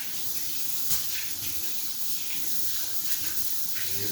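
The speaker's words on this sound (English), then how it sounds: "Now I'm going to wash my hands." A kitchen tap runs steadily while hands are washed at the sink, a constant close hiss of water with faint splashes and no speech.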